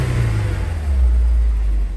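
A Honda S2000 sports car sits in neutral with its engine running loud and close: a steady low rumble that swells partway through as the engine is revved.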